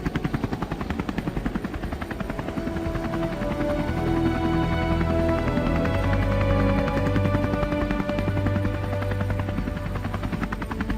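A helicopter setting down near a group of people in a drama series, its loud, steady rotor thrum and rapid chopping beat filling the scene throughout without a break; no talk.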